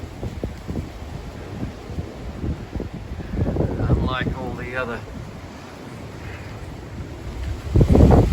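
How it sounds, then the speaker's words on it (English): Strong gusting wind from Storm Darragh roars and buffets outdoors on a flooded street with trees down, swelling and easing in loud surges while someone talks over it. "this is a proper storm."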